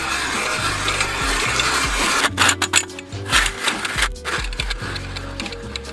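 An ice auger bores a hole through about nine inches of frozen creek ice in cold Ohio weather, with grinding, rasping scrapes and rhythmic bursts of cutting that grow rougher and more uneven partway through, loud and close.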